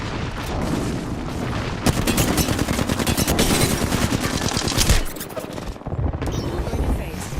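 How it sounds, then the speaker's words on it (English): Rapid gunfire and booming airstrike explosions from Apex Legends crash loudly and continuously, swelling into a dense barrage midway before easing into scattered shots and rumbling blasts. "Airstrike."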